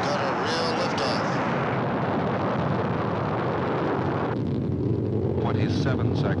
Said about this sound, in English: We've got a real liftoff.